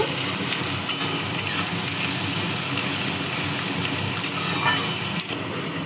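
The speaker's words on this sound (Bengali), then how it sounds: "পেঁয়াজগুলোকে লাল লাল করে ভেজে নেব" Chopped onions fry in a pan of hot oil while being stirred, for a Bengali ridge gourd posto dish. A steady close sizzle runs throughout, with occasional light scrapes and clinks from the stirring utensil.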